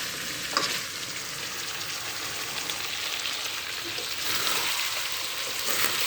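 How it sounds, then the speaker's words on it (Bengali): Broiler chicken meat sizzles and fries steadily in a pan while being stirred, a dense close crackle that continues throughout with soft scraping. "এভাবে নেড়ে চেড়ে 3 থেকে 4 মিনিট আমি কষিয়ে নেব।"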